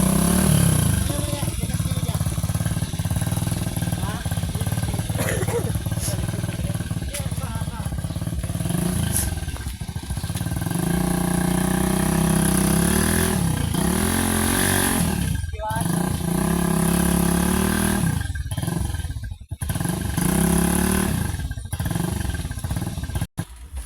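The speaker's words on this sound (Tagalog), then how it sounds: "Maray kaguban na ng motor." A motorcycle engine runs loudly and close for a long stretch, its pitch rising and falling with repeated revs and a few brief cuts, under occasional talking.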